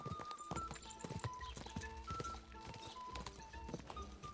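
A horse gallops in Kingdom Come: Deliverance II, its hooves clip-clopping in a steady, fast rhythm close by, with a faint tonal backdrop beneath.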